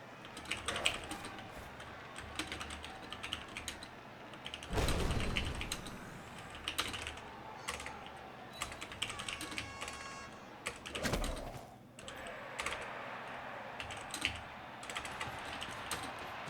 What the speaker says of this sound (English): I'm going to write them in German right now